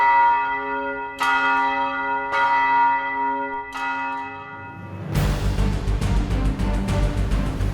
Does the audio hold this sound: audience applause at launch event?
no